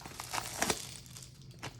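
A foil Kamigawa Neo Dynasty collector booster pack is torn open by hand, giving sharp crinkling and ripping bursts at close range with no talk.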